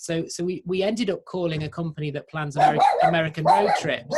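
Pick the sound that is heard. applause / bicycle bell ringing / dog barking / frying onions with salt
dog barking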